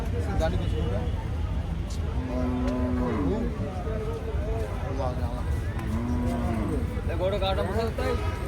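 A cow at the Gabtoli cattle market lows several times in drawn-out moos over continuous crowd noise and people talking.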